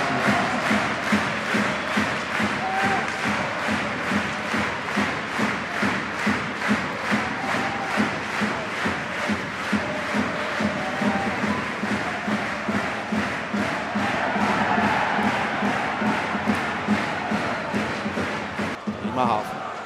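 Crowd noise fills an ice hockey arena during a Fischtown Pinguins versus EVL Landshut match, a steady loud roar with rhythmic claps or chants and thuds throughout, with a commentator talking over it.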